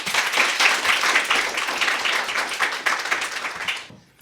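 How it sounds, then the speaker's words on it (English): Audience at a live reading and performance event clapping for a performer, a lively, fairly loud burst of many claps that holds steady, then tapers and cuts off abruptly near the end. "Everyone clap for MaKai."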